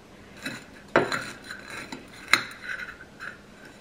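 A knife cuts open food topped with Maldon salt on a plate, producing a few sharp, clear clinks and taps of metal against the dish amid soft scraping, with no one talking.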